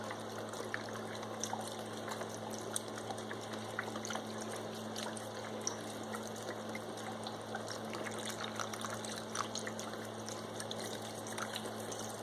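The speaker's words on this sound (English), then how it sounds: "I'm going to take my other 4 cups of chicken broth, and I'm just going to pour that in" Four cups of chicken broth poured into a crock pot holding pork stew ingredients, heard as a soft, continuous close trickle and splash of liquid lasting several seconds over a steady background hum.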